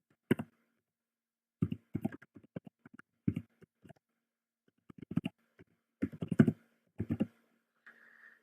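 Rapid bursts of clicking keystrokes on a computer keyboard while a value is entered into a scripting tool, close and dry, coming in short clusters separated by brief pauses, with no talking.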